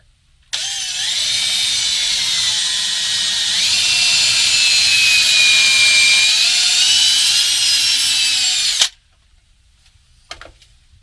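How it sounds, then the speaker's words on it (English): A power drill bores holes into the wall of a Ram Promaster 2500 159-inch wheelbase van during a DIY build, running as one loud, steady whine of about eight seconds with a slight pitch rise partway through, then stopping abruptly. "So let's get set up and drill a few holes, get things attached"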